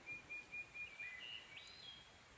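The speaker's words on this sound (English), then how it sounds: "It's a brand new day. Can you hear the birds?" Faint morning birdsong outdoors on the Appalachian Trail: a series of short, high whistled chirps repeating at a steady pace, then a few varied notes over a soft background hiss.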